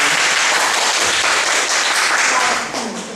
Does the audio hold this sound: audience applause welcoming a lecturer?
yes